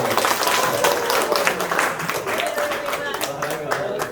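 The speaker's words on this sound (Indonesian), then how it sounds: "Baik, tepuk tangan silakan dulu." People at a service excellence training session clap together, a dense, fairly loud burst of applause lasting several seconds, with voices chattering underneath.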